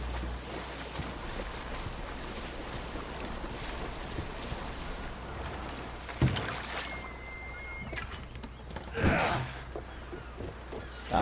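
A small boat moves over the sea in Assassin's Creed Odyssey, with a steady wash of waves and wind under a faint creak or tone, then a couple of louder splashing surges toward the end.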